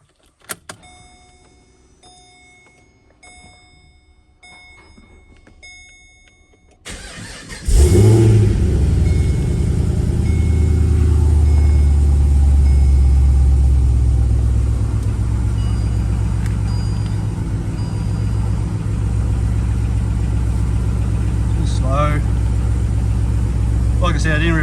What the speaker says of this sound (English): Alright, start it up and move the steering wheel back and forth and bleed it.